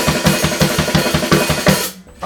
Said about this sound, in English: it's going to come together and sound something like this at a slow speed.